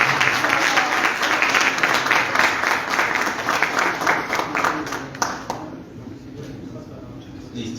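Strong applause from an audience at a panel discussion on the history of the tuna in Arequipa, dense clapping that fades out after about five seconds, with some voices mixed in.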